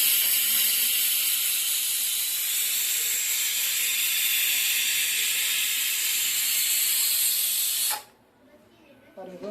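Pressure cooker whistling while chicken gravy cooks: a loud, continuous high steam hiss held for about eight seconds, then cut off abruptly, leaving a quiet room.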